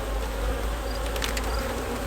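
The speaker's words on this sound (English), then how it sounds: "There's just so many bees in here" A dense, steady hum of a great many honeybees packed inside an overcrowded hive, loud and close with no break.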